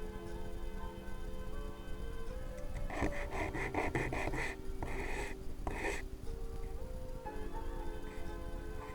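A series of rhythmic rasping sanding strokes on PVC foam, close and fairly quiet, scrape back and forth over a constant background hum.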